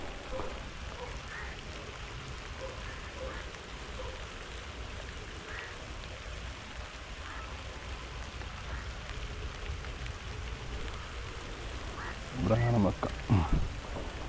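Soft, steady rain patters on surfaces throughout during a fishing trip, with faint distant sounds and a brief louder voice near the end.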